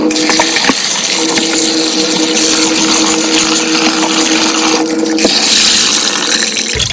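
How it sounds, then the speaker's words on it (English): Water from a tap pouring over efo leaves in a sieve, a loud continuous gushing rush with a faint steady hum beneath, close and unbroken. "then I run water on it."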